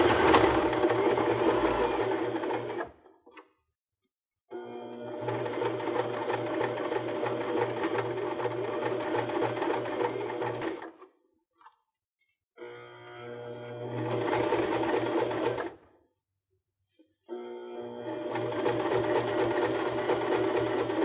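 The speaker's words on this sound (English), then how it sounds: "just stitch right along the very edge to tack them down in place" A sewing machine stitches pom-pom trim onto the front of a cork purse in steady whirring runs, several bursts of a few seconds each separated by short silent pauses, close and clear.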